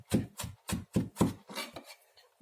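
A knife rocks across a board mincing garlic, with about nine crisp, evenly spaced chops close up, slowing toward the end, and no talk.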